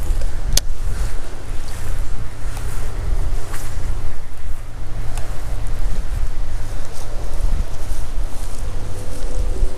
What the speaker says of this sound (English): It's pretty windy. Hopefully that doesn't show up too much in the audio